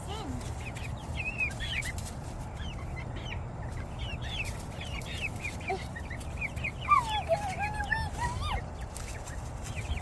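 A young goose peeping at a farm animal auction setting, repeated high thin chirps scattered through the clip with some clucking fowl and a faint voice nearby, over steady low background noise.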